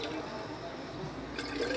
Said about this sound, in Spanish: Ahora vamos a ir allá a echarle agua.